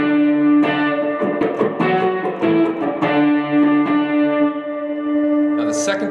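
Electric guitar playing a simple walk-down octave lead, a few clear picked notes stepping downward with effects, close and prominent, with speech briefly present.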